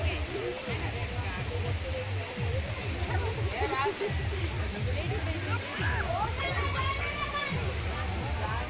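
Khandadhar waterfall in Keonjhar, Odisha pours down a hillside in a steady, dense roar that fills the whole scene, with voices murmuring faintly beneath the rushing water.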